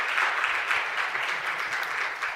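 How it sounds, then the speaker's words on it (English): Sustained applause from a conference audience at an arts school gathering, steady and dense crowd clapping with no talk over it. "let us give Prof. Taylor another round of applause"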